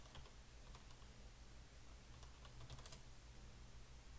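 Keys clacking on a computer keyboard in quick, uneven runs of taps, quiet and close, with no talking over it.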